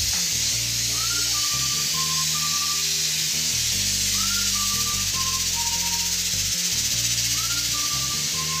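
Hot oil sizzling in a pan while cooking besan pitla with chopped onion and tomato, a steady loud hiss under a bed of background music.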